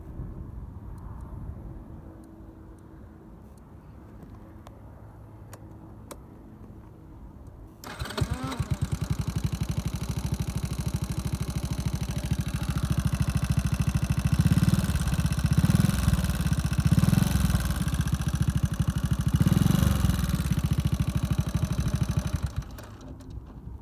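Quiet background, then an Altai Tank motorcycle engine cranks and fires up loudly, settling into a steady, throbbing idle with a few slight revs before cutting off.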